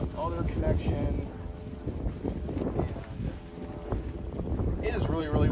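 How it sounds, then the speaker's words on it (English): Strong outdoor wind buffeting the microphone in loud, rumbling low gusts throughout, with some brief higher rustling sounds on top and no clear talk. "And it is really, really windy here."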